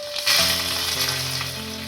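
Curry leaves dropped into hot oil for a dhokla tempering burst into a loud sizzle that settles into a steady, close crackle.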